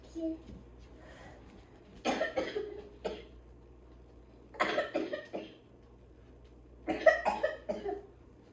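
A child coughs in three short bursts of several hacking coughs each, separated by quiet pauses, close by and fairly loud in a quiet home.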